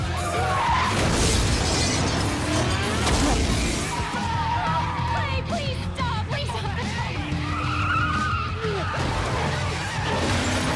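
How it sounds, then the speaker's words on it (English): A red race car skids and spins out, then crashes into a cement drain pipe. Tires screech and impacts land in a busy, loud jumble of crunching, scraping hits, with voices mixed in. "causing the red car to spin out and crash into a piece of cement drain pipe."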